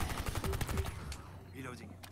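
Enemy gunfire in the co-op shooter R6 Extraction, a rapid burst of repeated shots at the start followed by scattered impacts and game effects, fairly loud, with a player's voice briefly under it.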